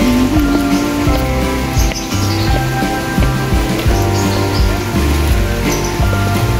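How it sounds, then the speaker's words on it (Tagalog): Light drizzle falling outdoors near a Japanese-style restaurant in Alfonso, Cavite, a steady soft patter of rain mixed with faint chirps and background music, with a brief murmur of voices. "Ambon."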